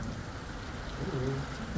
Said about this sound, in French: Il pleut beaucoup, ouais, il pleut beaucoup, c'est chiant.